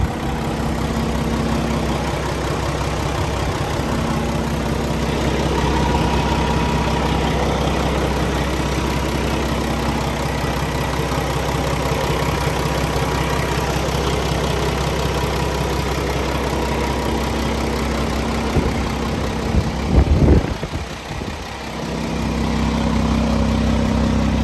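2015 Peterbilt 579 truck with a Paccar MX13 diesel engine idling, a steady, heavy low rumble heard close and alone, with a brief disturbance near the end before the drone settles again.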